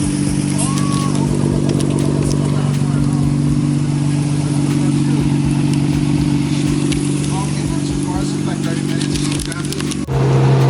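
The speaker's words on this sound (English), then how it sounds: "I'm driving my freaking Skyline in America right now." A Nissan Skyline's engine drones steadily at close range while driving, a low rumbling hum that holds through most of the stretch before shifting briefly near the end.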